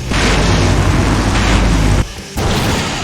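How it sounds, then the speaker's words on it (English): A loud, sustained explosion from the video game Full Throttle Remastered roars with a dense broadband rumble for about two seconds, cuts off abruptly, then resumes as a fainter trailing crackle. "Now that's an explosion, ladies and gentlemen."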